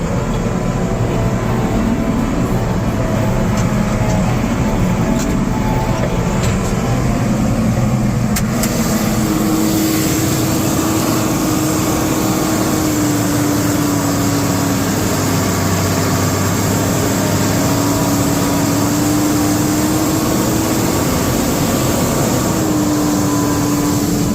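A heavy engine running wide open on land prep work, a loud steady drone throughout, with a rising whine and a shift into third gear partway, pitch climbing again afterward.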